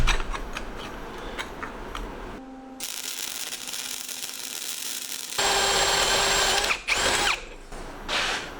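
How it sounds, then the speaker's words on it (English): An electric drill whines in several bursts while drilling for a brake handle install, pitch shifting under load as it bites through material, with short pauses and clicks between runs. "when I drill that rest of the way, it'll have no problem just popping out the other side"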